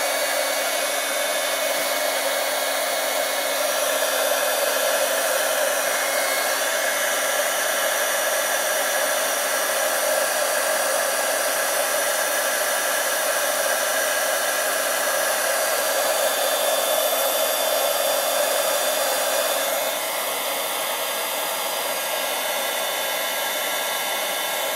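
A heat tool blows hot air over liquid appliqué in a steady, loud whirring hiss that continues unbroken, with a slight change in tone near the end.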